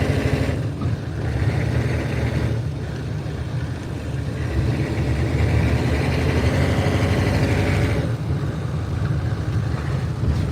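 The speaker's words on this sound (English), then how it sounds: "Driving around a Humvee." A Humvee engine drones steadily while the vehicle drives, a dense low rumble holding constant and close throughout with no talk.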